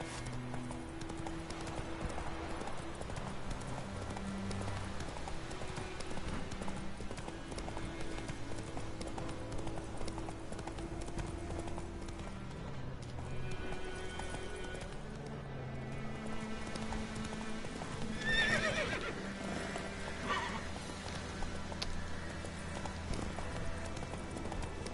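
A horse gallops steadily in The Witcher 3, its hoofbeats a continuous rhythmic clip-clop under game music, with a brief brighter burst near the end that may be a whinny.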